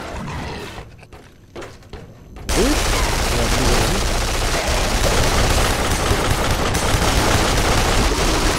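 Loud, dense burst of rapid gunfire in Duke Nukem Forever that starts abruptly after a quieter stretch and continues unbroken, with a voice mixed in.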